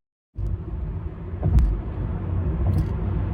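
A BYD E6 electric car cruises on an expressway at 80 to 100 km/h: a steady, low road and tyre rumble with wind noise, heard from inside the cabin after a sudden start, no voices.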